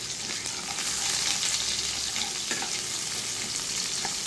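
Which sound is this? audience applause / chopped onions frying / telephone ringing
chopped onions frying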